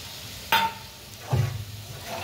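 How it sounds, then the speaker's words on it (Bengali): Spices frying in oil in a home kitchen pan, with a sharp scrape or clatter, then a low burst of sizzling and stirring that continues quietly; no talking. "দেখো মশলা ভাজা ভাজা হয়ে গেছে"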